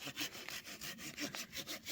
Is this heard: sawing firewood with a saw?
yes